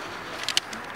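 A short pigeon or dove call outdoors, a few brief soft notes near the middle over a steady quiet background hiss.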